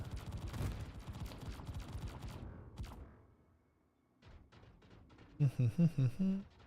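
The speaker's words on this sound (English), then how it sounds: "Different AA turrets from the other side are shooting me" AA turrets in a video game firing at the player, heard as a rapid rattle of gunfire that fades into near silence before sharp, clanking mechanical bursts return, with a voice speaking in between.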